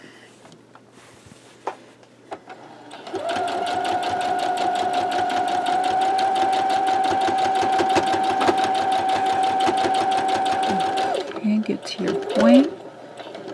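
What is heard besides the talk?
sewing machine stitching a quilt block in the ditch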